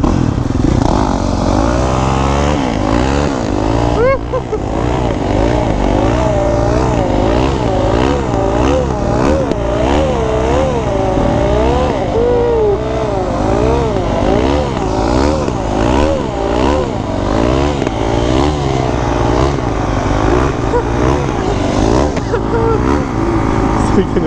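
A 2021 Yamaha YZ450F dirt bike engine runs steadily for a long stretch during break-in, loud and close, with its pitch rising and falling through gentle throttle changes while people talk over it.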